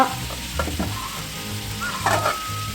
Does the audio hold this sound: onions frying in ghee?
yes